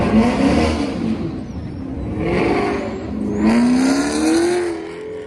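Car engines rev and surge in repeated loud bursts on a street, rising and falling pitch with passing vehicles, close by and without talking.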